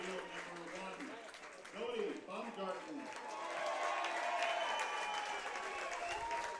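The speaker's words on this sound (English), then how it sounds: "The Kindred fans likewise making some noise." Baseball fans cheer and applaud at the North Dakota Class B state championship game between Kindred and Park River Area, a steady crowd roar that swells in the second half over an announcer's talk.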